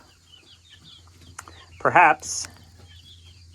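A chicken on a farm lets out a short burst of throaty clucks and a squawk, close by, with a brief spoken word and a faint low hum in the background.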